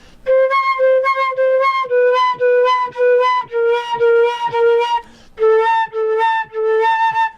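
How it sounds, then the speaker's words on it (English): A flute plays a run of bright overblown notes, tongued in quick succession, with a brief pause near the end before a few more notes. "And here's my overblow."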